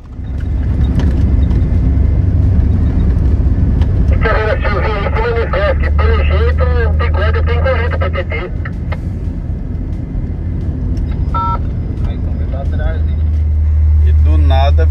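A car drives along the BR-230 Trans-Amazonian highway in Brazil with a steady, loud low engine and road rumble, while people talk over it throughout.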